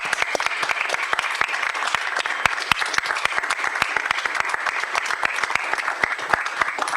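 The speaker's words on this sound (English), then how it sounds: "a big applause to the authors." Audience applause for the authors at a 2025 report launch event: many hands clapping in a crisp, rapid patter, steady and fairly close throughout with no talk over it.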